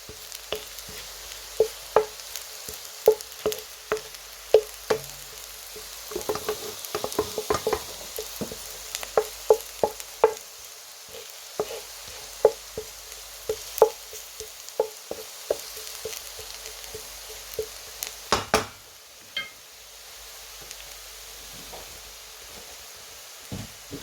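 Garlic sautéing in a pan for potato patties, a faint background sizzle dotted with many sharp clicks and taps of stirring, irregular and fairly close.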